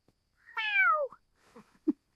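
A house cat gives one loud, drawn-out meow that slides downward in pitch, close by. A few soft rustles and a brief low thump follow, and no one speaks.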